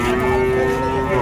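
At the Vaniyambadi cattle market in Tamil Nadu, a single loud, close cow moo stretches out steadily for over a second above a faint background murmur.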